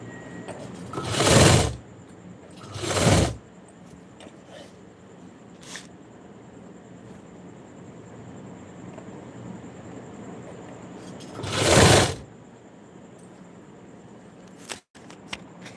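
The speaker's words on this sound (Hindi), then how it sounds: "मैं सिलाई कर रही हूँ" A sewing machine stitches in three short, whirring bursts spaced apart, with quiet room tone between them and a faint click near the end.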